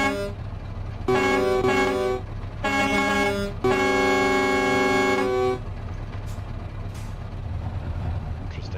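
Scania V8 truck in Euro Truck Simulator, a 10x4 730 rig hauling a heavy load, sounding long loud horn blasts in three bursts over a low engine drone, then engine hum alone with faint clicks.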